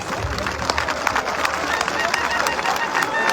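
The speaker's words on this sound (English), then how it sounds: "can you give him the applause?" An audience claps in a burst of applause, a dense patter of many hands with crowd noise at a political gathering, while a voice speaks over it.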